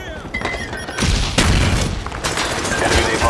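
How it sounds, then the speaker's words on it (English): A frag grenade blast in Call of Duty: Black Ops on the Wii, Summit map, team deathmatch: a loud broadband boom lands about a second in, followed by a second burst and continuing gunfire-like clatter, with game voices faintly present. "Throwing frag!"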